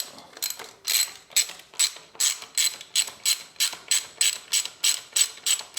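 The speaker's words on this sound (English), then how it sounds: "We're going to take the shifter peg off next. It's a 6mm bolt by the looks of it." Ratchet wrench loosening the 6mm shifter peg bolt on a Harley-Davidson Sportster, a close, steady run of about fourteen crisp clicking strokes in even rhythm with nothing else over it.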